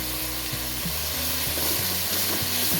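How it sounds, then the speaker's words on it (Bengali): Raw Bombay duck (loitta) fish fries in hot oil with a dense, steady sizzle and hiss, and faint utensil taps now and then. Close and continuous, with no talk. "একটু কাঁচা মাছ তো আমরা একটু আগেই ফ্রাই করে নিচ্ছি"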